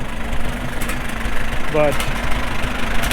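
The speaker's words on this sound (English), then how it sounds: "it's not perfect, but the engine runs like a dream" A Farmall M tractor engine idles at a steady, low, even rumble close by, while someone briefly speaks over it.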